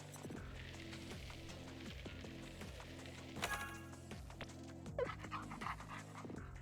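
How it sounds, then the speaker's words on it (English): A cartoonish dog barking and panting effect from the video game Ollie-Oop, repeating in a steady rhythmic loop at a very low level over a faint hum. "that barking thing is so funny"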